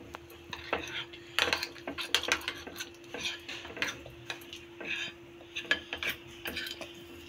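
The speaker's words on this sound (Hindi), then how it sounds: "अच्छी तरह से इसे मिक्स करते हैं।" Lentil pizza batter with cornflour being mixed in a bowl, with a spoon repeatedly scraping and clinking against the sides in uneven bursts, close and fairly quiet, with a steady faint hum underneath.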